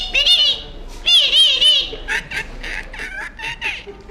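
A voice mimics a parrot's call with high, warbling, wavering whistles in two bursts. Choppier squawk-like imitations follow, close and loud.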